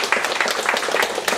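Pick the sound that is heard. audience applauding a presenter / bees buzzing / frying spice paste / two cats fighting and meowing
audience applauding a presenter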